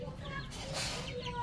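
A hen clucks softly and briefly at close range, with faint rustling around it.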